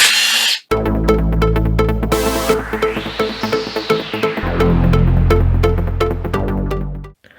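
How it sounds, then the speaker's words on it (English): Tool work on 10mm oil seal retainer housing bolts of a Honda CR-V during a rear main crankshaft seal replacement: a close whirring drive that rises and falls, broken by rapid ratchety clicks and a few short pauses. "10mm socket to remove the retainer housing bolts."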